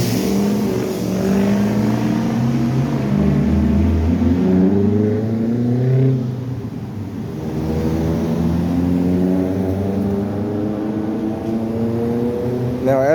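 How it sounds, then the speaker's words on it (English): Car engines hum and drone steadily along a street with a bike lane, loud and close, swelling and easing as vehicles pass without any talk. "the traffic gets a little heavier, you find more cars traveling in the bike lane"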